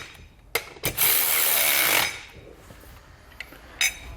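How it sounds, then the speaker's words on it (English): Power tool or ratchet tightening bracket bolts with a 9/16 socket while fitting Air Lift LoadLifter 7500 XL air helper springs on a 2020 Ford; a short sharp burst followed by a sustained whirring run of about a second, then faint clicks, nearby. "then we'll just tighten them down with a 9/16 socket"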